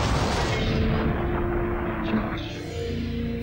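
Stockman grenade exploding in the video game Turok 3, a loud, rumbling blast that fills the whole moment and slowly decays with a deep roar.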